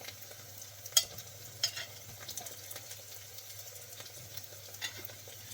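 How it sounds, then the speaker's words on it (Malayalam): Tomato, onion and green chillies with garlic and ginger cooking in a pan, a faint soft sizzle under occasional utensil scrapes and taps as the mixture is stirred. No one speaks. "നന്നായിട്ട് ഇങ്ങനെ ഇളക്കി കൊടുക്കുകയാണ്."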